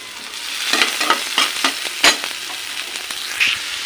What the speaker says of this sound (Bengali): পেঁয়াজগুলো আমি তেলে নেবো